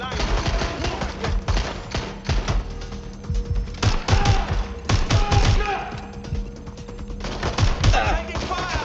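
Gunfire in the video game Watch Dogs: Legion, with rapid volleys of shots, thuds and impacts in close, irregular bursts throughout, under occasional speech.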